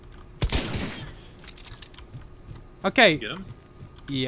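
Gunfire in a video game: a burst of rapid shots early on, then a second sharp burst, with someone talking between them.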